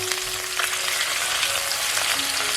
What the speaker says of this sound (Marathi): फ्राय करताना मासे जास्त काही टाकायचं नाहीये